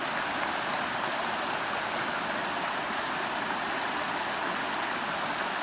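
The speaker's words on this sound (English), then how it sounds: "Multiple stream crossings like this" Steady, broad rushing of stream water flowing over rocks at an Appalachian Trail crossing among rhododendrons, constant and fairly close with no voices.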